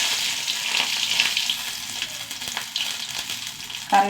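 Mustard seeds and dried red chillies fry in hot oil with a close, steady sizzle and scattered crackles, swelling into a louder spattering burst at the end.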